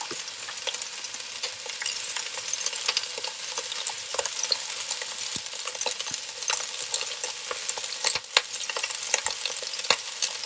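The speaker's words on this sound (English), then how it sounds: "I think it's starting to sizzle now" Beef sears in a big pan, giving a dense, continuous sizzle and crackle close up, with occasional sharper pops and light utensil taps throughout.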